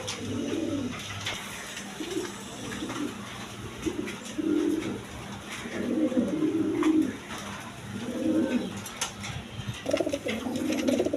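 Large domestic pigeons, a male and a female, coo close by in repeated, rolling phrases at a steady rhythm over faint background noise, with no talk.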